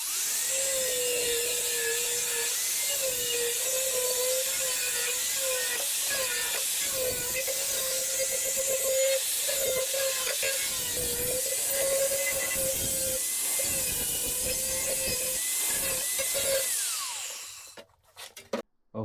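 Sheet metal being cut for a rusted rear panel repair on a BMW E36, a steady high whining grind with a sustained tone, loud and continuous for about seventeen seconds before stopping, followed by a couple of clanks.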